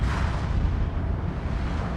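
Naval gunfire in the World of Warships video game, heard as a dense, continuous low rumble of booming cannon fire and explosions, loud and steady with no clearly separated shots.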